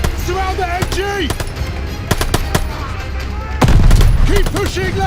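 Machine-gun fire in the World War II shooter Call of Duty Vanguard: sharp bursts of rapid shots ring out over a dense battle din of music and explosions, with shouted voices mixed through the combat.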